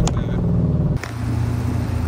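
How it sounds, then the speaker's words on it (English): A Dodge Challenger R/T with its hood removed revs its engine up close, a loud, deep burst of throaty roar that shifts pitch partway through the short rev. "Let y'all hear that engine talk"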